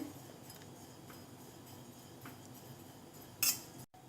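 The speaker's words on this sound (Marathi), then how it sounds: "आता आपण कढईमध्ये खोबरं घालून थोडंसं भाजून घेऊया छान परतून घ्यायचं आहे" Grated coconut being roasted and stirred in a hot kadai for a spicy ridge gourd masala, giving faint, quiet scraping and light metallic clinks, with a brief sharper clatter near the end.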